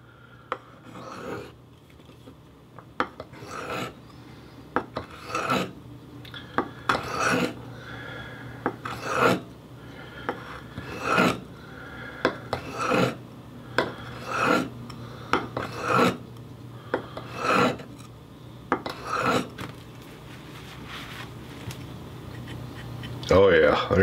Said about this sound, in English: I can feel the metal and the friction loosening up just a little bit, making the blade easier to glide across the stone.